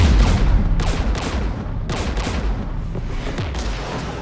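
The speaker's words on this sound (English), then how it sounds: "We're taking fire." Heavy gunfire and explosive bursts fill a Mass Effect Legendary Edition firefight, dense and continuous, with loud booming impacts rolling over each other and no pauses.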